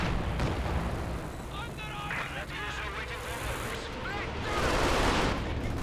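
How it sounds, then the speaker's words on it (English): Werfer rocket artillery barrage in the strategy game Company of Heroes 2, a dense, continuous roar of launches and impacts filling the whole stretch and swelling toward the end, with a commentator talking over it. "There's the next Werfer barrage."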